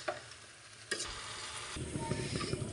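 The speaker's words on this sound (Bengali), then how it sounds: "চুলার জাল মিডিয়ামে রেখে আচারটি নেড়ে ছেড়ে করে নিচ্ছি।" Chalta (elephant apple) pickle stirred in a pan over a medium flame, a soft sizzle under spoon scrapes that builds into a thicker, bubbling fry in the second half.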